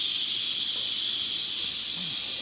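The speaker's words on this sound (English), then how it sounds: "We're going to let the steam release." Steady, loud hiss of steam venting from an Instant Pot pressure cooker's release valve after cooking beef stew, continuous and unbroken for the whole stretch with no talk over it.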